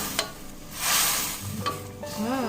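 A steady sizzle of meat for dendeng frying in a pan while a utensil stirs and scrapes through it, close up, with a brief tonal squeak at the end.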